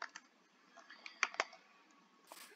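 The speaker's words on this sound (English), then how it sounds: "He's just typing in the chat for his channel." Keyboard typing in a chat during a Minecraft session: a quiet scatter of irregular clicks and taps, a few sharper keystrokes near the middle, with no talking.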